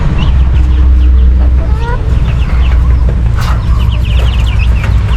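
Hens cluck repeatedly close by at a rural countryside home, with short clucking calls scattered over a loud, steady background noise.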